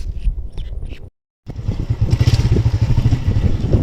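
A motorcycle engine drones and revs unevenly on an unpaved dirt track, briefly cutting out before rumbling back louder, close by with rough outdoor noise.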